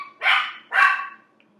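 Pet dogs barking at home, two sharp loud barks close by about half a second apart, followed by quiet.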